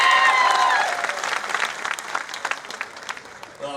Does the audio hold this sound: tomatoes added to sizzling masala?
no